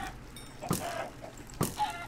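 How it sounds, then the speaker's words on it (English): Chickens in the Minecraft Pixelmon game give two short, sharp clucks about a second apart, fairly close and clear over a low steady background. "There's too many chickens, we need to get rid of them."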